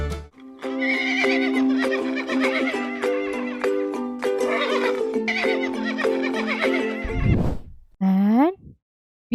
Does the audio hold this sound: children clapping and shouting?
no